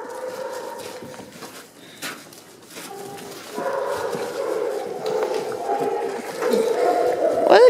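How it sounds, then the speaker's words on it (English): A group of puppies yip, whimper and bark in a mixed room, with scattered high cries that grow louder and more insistent toward the end. "What a good group of puppies today."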